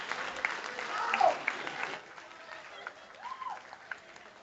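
A crowd cheers and applauds at Labor party headquarters on Queensland state election night, a loud burst that fades after about two seconds into quieter crowd murmur with voices.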